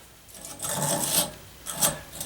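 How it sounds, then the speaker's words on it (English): Wire brush rasping softly over copper pipe threads while fitting a hot water expansion tank, two close scrubbing bursts with a quiet pause between, no talk. "Just take a little wire brush to this. Just do it softly because this is copper"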